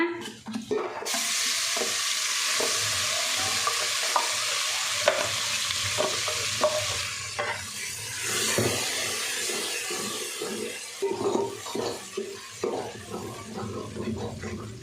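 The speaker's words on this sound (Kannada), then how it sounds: "ಚೆನ್ನಾಗಿ ಫ್ರೈ ಆಗಬೇಕಿದು ಫ್ರೈ ಆಗಿ ಎಣ್ಣೆ ಸಪ್ರೇಟ್ ಆಗೋ ಫ್ರೈ ಮಾಡ್ಕೋಬೇಕು" Ground masala paste and curry leaves fry in hot oil for egg sambar, making a loud, continuous sizzle close by, broken by scraping stirs of a spoon in the pan and no talking.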